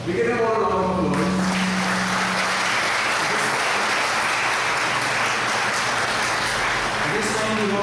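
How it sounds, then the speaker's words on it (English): A college graduation audience applauding the graduates, a loud, sustained wash of many hands clapping from start to finish, with a voice speaking over the opening moments. "At this time, we give them all a round of applause"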